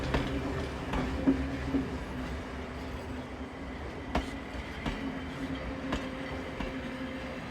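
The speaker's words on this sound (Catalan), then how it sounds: "el tren tallava a través de les vastes i gelades terres de Sibèria" A train rolls along rails through snowy Siberian terrain, a steady rumbling run with faint clickety-clack rail joints and occasional sharp metallic ticks, moderately loud and alone.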